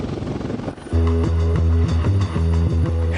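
Military helicopter flying, a steady rhythmic rotor thump with a strong low drone, loud and close after a brief quieter lead-in.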